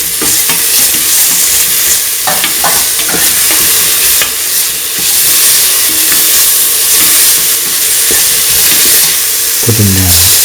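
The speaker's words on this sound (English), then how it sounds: "Put in the mixture of the mint and the onion and the fennel and the coriander that we made earlier. Thoroughly mix it to get it even." A mint, onion, fennel and coriander mixture is stirred in a frying pan, sizzling steadily with a bright hiss and repeated scraping strokes of the spoon, loud and close throughout.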